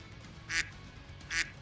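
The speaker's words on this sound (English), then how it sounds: "Quack, quack." Two short, bright duck quacks spaced about a second apart ring out clearly over a low background hum, with no talking.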